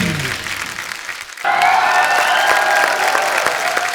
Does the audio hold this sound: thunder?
no